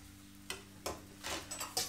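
A French crepe fries in a pan with a soft steady sizzle, punctuated by a few light scraping or stirring strokes over less than two seconds.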